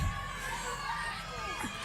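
School supporters cheer as a crowd at a Minecraft gaming championship, a steady, dense roar of voices and shouts that holds for the whole moment, with an announcer's voice faintly mixed in.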